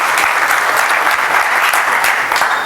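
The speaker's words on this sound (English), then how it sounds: "So have a huge round of applause" Conference attendees at an Angular developer event give a loud round of applause, thick continuous clapping that stays strong and even throughout.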